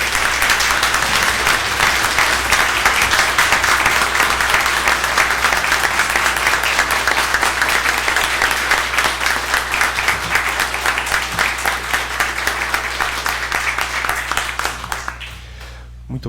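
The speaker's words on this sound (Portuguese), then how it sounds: "que dessem uma salva de palmas aos nossos bombeiros," A long round of applause for firefighters in a city council chamber, dense, loud clapping from many people that holds steady and then fades out toward the end, over a low constant hum.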